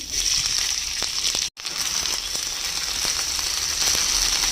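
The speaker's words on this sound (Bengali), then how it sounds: "পেঁয়াজটা হালকা করে ভেজে নিয়েছি" Two sliced onions frying lightly in a little oil, a steady bright sizzle and crackle running close and loud throughout, with one brief dropout.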